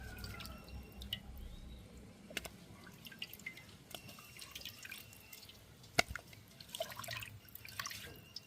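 Fish being rinsed in water at a home kitchen during lunch cooking: soft irregular drips and splashes of water, with light clatter and a sharper knock near the end, fairly quiet and without talk.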